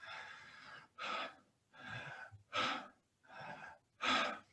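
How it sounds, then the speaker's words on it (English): Six quick, forceful breaths in and out through the nose and mouth demonstrating shallow belly breathing and hyperventilation, each a loud close airy rush separated by short pauses, steady and rhythmic. "a common mistake in diaphragmatic breathing is trying to breathe into the belly like this"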